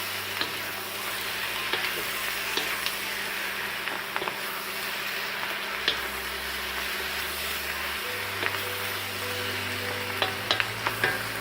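Porcini mushrooms fry in a pan with a steady broadband sizzle, overlaid by scattered clicks and scrapes of stirring throughout; no talking.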